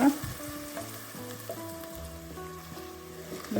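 Ground tomato and onion paste fries with already fried onions in a pan for restaurant-style chana masala, giving a steady sizzle with some stirring under faint background music.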